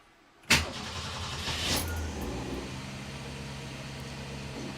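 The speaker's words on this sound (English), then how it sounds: "Let's go ahead and fire it back up." A Ford 200 inline-six engine, just reassembled after a head gasket job, cranks and catches with a sudden loud burst, then settles into a steady, even idle with no talk over it.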